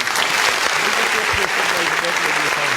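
Audience applause at a live show for a young singer, steady and full across the whole stretch, with a voice speaking over the clapping.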